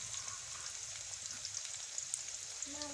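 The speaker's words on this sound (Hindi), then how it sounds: "हम इसको अच्छे से फ्राई करेंगे" Chopped onions fry in a pan of oil for chana matar pulao, giving a steady, dense hiss and crackle like light rain that runs unbroken throughout, close and fairly loud.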